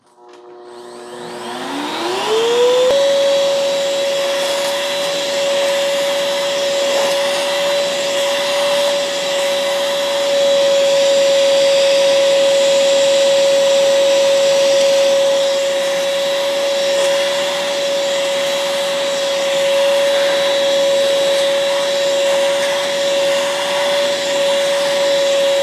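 A Pawaboo dog grooming hair vacuum spins up with a rising whine, then holds a loud, steady motor drone with a fixed pitch as it runs over a dog, continuous and close, no voices.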